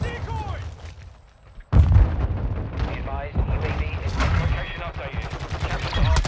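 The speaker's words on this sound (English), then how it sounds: "Oh my god, I just threw a nade on that guy" A grenade explodes in Call of Duty Modern Warfare 2 (2022) on PC, a sudden loud, close blast that bursts out of a quieter moment and is followed by sustained gunfire and rumbling battle noise.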